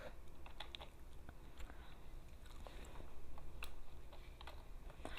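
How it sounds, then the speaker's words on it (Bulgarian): Gum is chewed right up against a gaming headset microphone, producing soft wet clicks and smacks in a steady irregular rhythm, quiet and close, with no talking. "Дъвче дъвка, ако чувате този звук."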